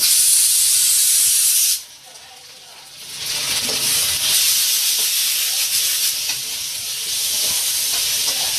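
Sliced onions with ginger garlic paste sauté in a hot pan for a restaurant-style squid fry, giving a steady close sizzle and hiss that briefly drops after a couple of seconds, then returns strongly and continues without speech.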